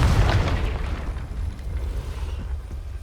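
A Confringo fire spell explodes in Hogwarts Legacy, a loud booming blast that swells at once and then rolls away into a rumbling decay.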